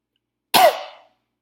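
A single sharp cough from one person, loud and close, bursting out and tailing off quickly with no talking around it.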